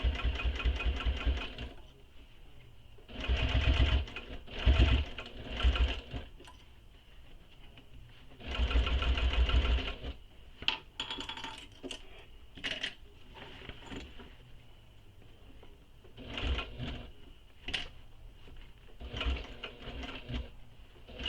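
Sewing machine stitching backpack fabrics, short bursts of close, rapid mechanical stitching with pauses between, some clicks and fabric handling in the gaps.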